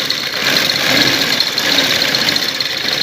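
A sewing machine running steadily as it stitches a second seam beside the first on a sleeve design, giving a continuous close mechanical whir with a faint rapid ticking throughout.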